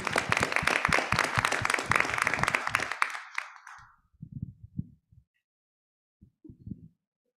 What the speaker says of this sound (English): So a round of applause for them because they did an amazing job tonight.